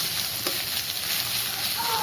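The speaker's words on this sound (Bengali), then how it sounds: "এবার আদাটাও আমি একসঙ্গে পেঁয়াজের সঙ্গে আরেকটু ভেজে নেব।" Grated ginger and chopped onion fry together in a small amount of oil in a pan, giving a steady, fairly quiet hiss of sizzling throughout.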